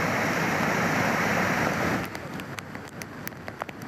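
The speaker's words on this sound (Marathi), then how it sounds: "मुसळधार पाऊस तिथं पडतोय नंदुरबार जिल्ह्यात" Heavy monsoon rain pours down in Nandurbar district as a dense, steady roar that drops after two seconds to a lighter patter of distinct drops.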